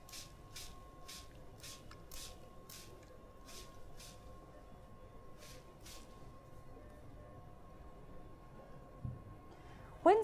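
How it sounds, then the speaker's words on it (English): A handheld spray bottle fires a series of short, sharp mist bursts of Epsom salt solution onto a 3D-printed part, with about a dozen spaced squirts over a faint steady hum. "And spray the other side, ensuring that all areas are covered."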